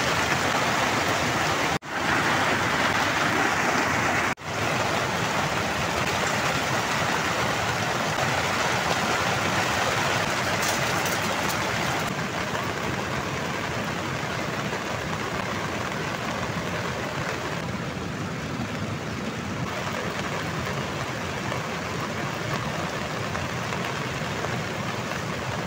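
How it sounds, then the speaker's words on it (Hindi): Heavy, steady rain from a severe rainstorm pours down on a campsite in Uttarakhand in a dense, continuous roar, with no voices and only a couple of brief dips in the wash of noise. "बारिश एकदम जोरदार हो रही है"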